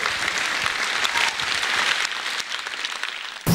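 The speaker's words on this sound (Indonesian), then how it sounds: "beri tepuk tangan untuk buat Dodin!" Stand-up comedy audience applauding, a dense, loud, continuous wash of clapping that runs the whole time and ends with a sudden burst.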